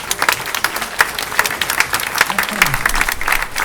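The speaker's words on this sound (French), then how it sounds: "applaudissez-le s'il vous plaît" An audience at a guitar orchestra festival claps in a sustained burst of applause, individual claps popping over the crowd, while a voice speaks briefly through it.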